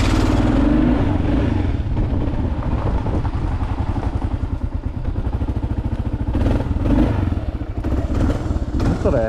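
A Kawasaki KLR motorcycle is ridden out with a neighbor at dusk, its engine running loud and steady throughout with a rough, throbbing drone and rushing wind noise.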